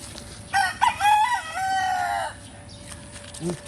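A rooster crows once, loud and close, a drawn-out cock-a-doodle-doo, followed by a short cluck near the end.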